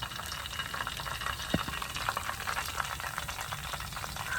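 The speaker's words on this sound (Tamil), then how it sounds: "பொரியட்டும்." Boondi fries in hot oil for laddu, a steady low bubbling sizzle that holds at a soft, even level throughout, with a few faint clinks of a utensil.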